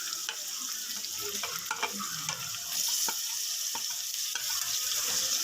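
Chicken liver with spices stirs and sizzles in a hot pan. The frying hiss is steady and is broken by irregular scrapes from the stirring utensil, and it grows louder toward the end.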